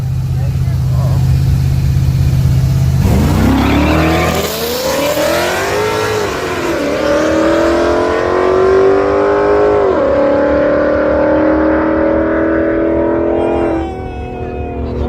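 A race car engine revs hard and climbs through rising, sweeping pitch, tires burning rubber, loud and close throughout with people talking over the roar.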